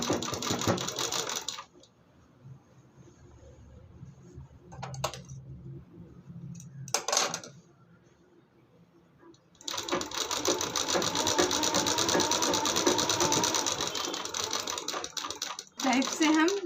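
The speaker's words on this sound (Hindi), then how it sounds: "अब देखिए इस पे हम सिलाई लगाएंगे।" Sewing machine stitching the waistband of a salwar, fast steady mechanical whirring in two loud bursts, the first brief at the start and the second lasting several seconds near the end, with quiet handling noises in the pause between.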